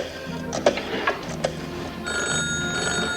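A telephone bell rings indoors in a dramatized scene, a bright continuous metallic ringing with a few sharp knocks and clatters at the start, fairly loud and close, with no speech.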